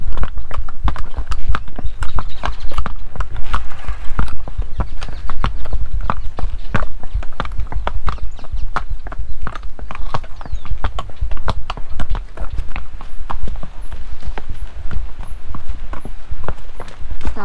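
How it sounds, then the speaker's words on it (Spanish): Horses walk along a forest trail in the Andean woods of the Combeima Canyon in Tolima, Colombia, their hooves clip-clopping in a close, steady, continuous rhythm throughout. "estamos aquí cabalgando por el bosque andino."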